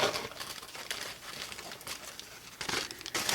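Paper being cut out with scissors for a mixed media stencil, heard as soft, close crinkling and snipping rustles in irregular bursts.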